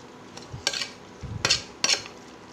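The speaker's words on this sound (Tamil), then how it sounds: "புதினாவை அப்படியே மசாலாவோட சேர்த்து நல்லா கிளறி விட்டுருங்க." Mint leaves are stirred into masala in a pan, with a few close spatula scrapes and soft sizzling spread over a couple of seconds.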